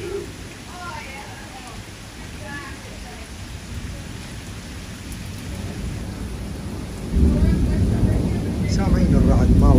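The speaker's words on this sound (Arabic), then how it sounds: "سامعين الرعد ما وقف ابدا." Rain falls steadily while low thunder rumbles, swelling into a louder roll near the end, during a strong storm in Windsor, Ontario, Canada; a voice speaks in the middle of it.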